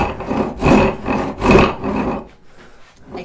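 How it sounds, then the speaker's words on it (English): A hand saw rip-cuts firewood held in a vise with steady back-and-forth rasping strokes, close and loud, fading into quieter scraping at the end. "It's one of the problems with sawing in a vise."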